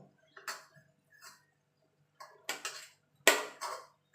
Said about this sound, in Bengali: এইভাবে পেঁপেগুলোকে আমি কেটে নেব